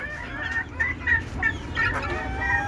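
Desi chickens clucking in a close, repeated series of short calls over low background rumble, with no talking.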